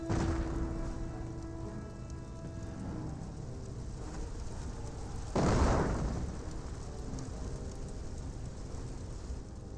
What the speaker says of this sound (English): incendiary grenades being thrown out by the Panzer Elite player